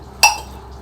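A single bright clink rings out as glasses are packed into a hospital bag, short and sharp, then fades quickly into a quiet room.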